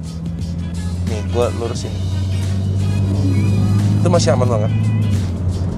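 A 2002 BMW Z3 with heavily cambered wheels is driven, its engine producing a steady low hum and road rumble throughout, close and constant, as someone talks over it from inside the car.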